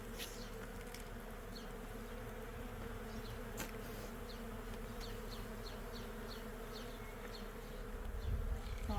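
A bee buzzes steadily close by, a continuous droning hum with a few faint higher chirps in the background and a low rumble rising near the end.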